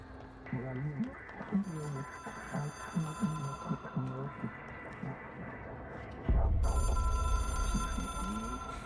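An old-style telephone bell rings in the video game Control, a repeated trilling ring heard near and clear while someone talks over it throughout, followed by a louder low rumble toward the end.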